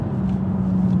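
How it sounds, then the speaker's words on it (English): A steady BMW M135i engine hum with a thin, faint turbo whistle riding on top under light cruising. "there's a little bit of a turbo whistle there"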